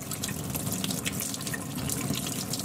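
Kefir grains are rinsed under a running kitchen tap, a steady close splash of water into the sink with no voices.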